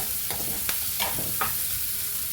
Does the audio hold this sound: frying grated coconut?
yes